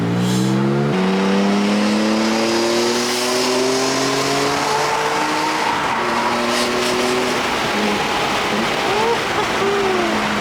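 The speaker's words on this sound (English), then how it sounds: "why is this car shifting so nice?" A BMW E46 M3 with a tuned SMG transmission revs loudly and climbs through the gears up close, engine pitch rising then dropping at each shift, with a faint tire squeal and occasional voices.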